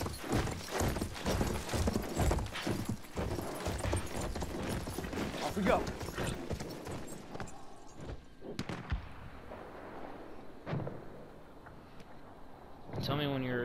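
Galloping horse in Battlefield 1, quick hoofbeats through the first half, thinning out later, with distant gunfire and battle noise mixed in and players talking over it.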